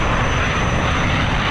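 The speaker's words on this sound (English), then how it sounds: "That was another plane." An airplane from the Skibidi Toilet animation flies past, a steady, loud engine drone filling the whole moment with no breaks or talking.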